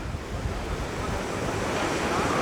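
Baltic Sea waves and strong wind at the end of a pier in Kołobrzeg in winter: a dense, continuous roar of surf mixed with gusting wind buffeting the microphone, steady and loud throughout with no voices.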